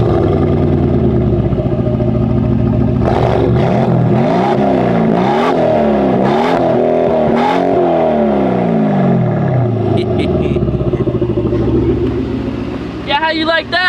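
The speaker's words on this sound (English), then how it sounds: "All right, Tag, rev this sucker up." A Mercedes G-Wagon pickup with a 700-horsepower engine idles loudly, then revs repeatedly in rising and falling sweeps before settling back, close and dominant, with voices briefly near the end.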